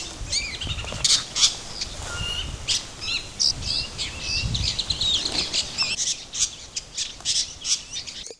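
Birds squawking and chirping along a mountain trail, a busy overlapping chorus of sharp calls and trills, some close and loud, with a few low thumps and rustles underneath and no voices.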